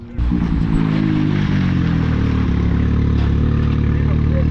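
A car engine revs hard and steadily through an RPM Sport E-Valve muffler, a loud, deep, continuous exhaust drone held for several seconds, close up.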